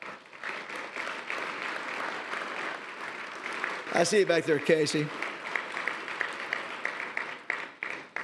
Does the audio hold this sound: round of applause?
yes